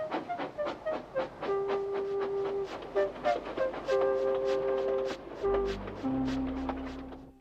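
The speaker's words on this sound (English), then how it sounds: "Thomas puffed sadly away" Steam tank engine on a model railway puffing away in a steady run of chuffs, with a clear whistle-like tone through most of the stretch, fairly close and alone without talk.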